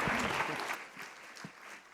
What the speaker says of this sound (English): let's give a round of applause for John, James, and Craig.